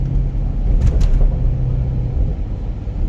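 A Dodge Durango SRT 392 truck engine runs steadily with a deep, continuous low rumble, close and fairly loud, with no talk over it.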